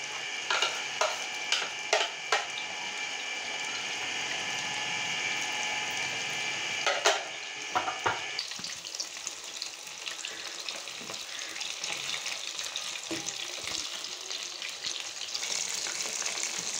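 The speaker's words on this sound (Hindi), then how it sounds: "और इसी तरह से अपने सारी बोटियों को फ्राई कर लेंगे।" Marinated chicken pieces fry in a pan with a steady, dense sizzle; a few sharp clinks and stirring sounds come early, then the hiss continues on its own.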